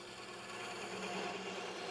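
A gouge cuts down into a cove on spinning wood on a lathe, making a soft, steady shaving hiss that stays faint and even throughout.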